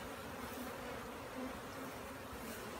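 Honey bees swarm around a hive while nucs are transferred in, giving a dense, continuous buzzing drone, close and soft, with no voices.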